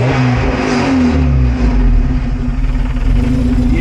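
A 1975 Volvo 245 wagon with a 16-valve turbo engine running close by, a loud steady drone with a slight rise in revs partway through, uninterrupted by voices.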